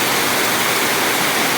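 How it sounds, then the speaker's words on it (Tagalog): Steady rain falling in heavy, even sheets, a continuous close hiss that fills the whole short stretch without any voices. "Yan, oh, umuulan."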